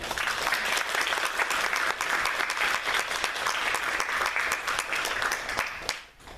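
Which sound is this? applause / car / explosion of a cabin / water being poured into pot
applause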